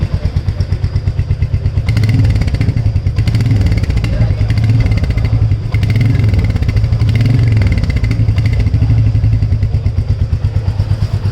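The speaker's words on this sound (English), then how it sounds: "So exhaust note." A Royal Enfield Meteor 350 motorcycle idles close by, its exhaust putting out a steady, loud low thump with a few light blips of the throttle.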